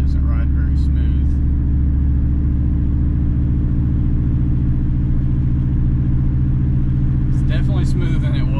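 A lifted truck on a 3 inch spindle lift rolls along on worn, out-of-shape tires, its cabin filled with a loud, steady low engine and road rumble, with faint brief rattles at the start and end.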